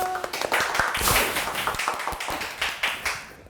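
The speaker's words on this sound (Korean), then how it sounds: "여러분 박수 많이 쳐주시라요." Steady, moderately close clapping from an audience for a singer at an educational event, with dense overlapping claps and occasional louder slaps that keep an even pace throughout.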